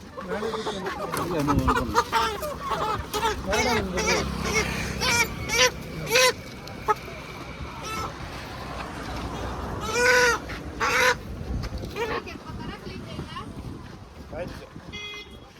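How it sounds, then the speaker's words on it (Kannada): Country chickens and broilers cluck and squawk repeatedly nearby, some calls loud and sharp, while people talk over them throughout. "ನೋಡಿ, ನಾಟಿ ಕೋಳಿ, ಬಾಯ್ಲರ್ ಎಲ್ಲ ಇದೆ."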